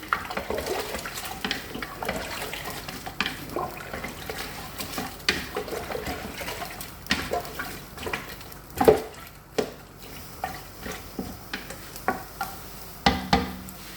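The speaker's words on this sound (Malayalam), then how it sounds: "ഇനി ഞാൻ ചൂട് വെള്ളമാണ് ഒഴിച്ചു കൊടുക്കുന്നത്" Mutton being stirred in a pressure cooker after hot water is poured in for mutton rice, giving a steady wet sloshing and scraping with faint sizzle and intermittent clinks of the spoon, close and fairly quiet throughout.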